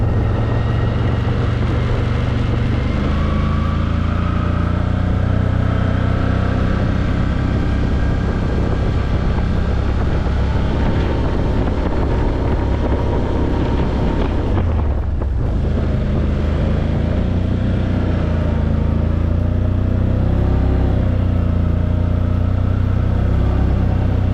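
A 2022 Can-Am Outlander 850 Max XT ATV accelerates through snowy, mounded ground, its engine droning loudly and rising in pitch under heavy wind rush against the microphone, with a brief dip midway.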